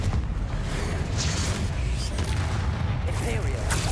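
A Confringo fire spell blasts in the video game Hogwarts Legacy, a loud booming burst in the middle of a noisy fight against spiders, with a voice talking over the game sounds.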